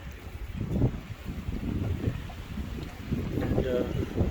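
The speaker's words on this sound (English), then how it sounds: "So windy out here right now." Strong wind blows on the Zambezi River, buffeting the microphone in rough, gusty rumbles that swell and fade across several seconds out on the water.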